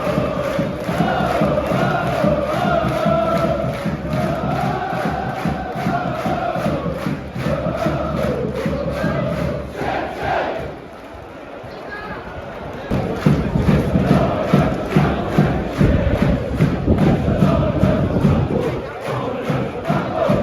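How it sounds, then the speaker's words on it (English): A large football stadium crowd at Exeter versus Blackpool roars, chants and cheers continuously, dipping briefly before swelling back to full volume. "I'll just let the fans make the noise in this clip."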